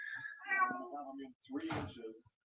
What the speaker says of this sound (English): Sorry, my cat's chucking a psycho.